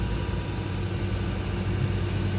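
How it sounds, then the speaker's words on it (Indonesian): Mitsubishi Pajero Sport diesel engine with rat-chewed injector wires idles roughly and unevenly up close, a low steady rumble that wavers with small surges. "mengeluhkan itu mesinnya ginjal-ginjal, stasioner tidak stabil"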